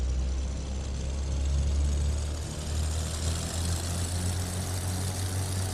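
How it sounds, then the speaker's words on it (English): Twin piston engines on a BlackSquare B58 Baron in MSFS 2024 rev up with the throttles, giving a steady, loud, low droning roar that holds without a break and carries no talk. "Let's go mixture full rich. Let's bring up those throttles."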